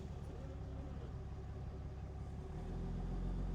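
A Dodge Cummins truck in limp mode idles while shifting into reverse, a low steady diesel rumble with a faint knocking pulse that deepens and grows slightly louder near the end.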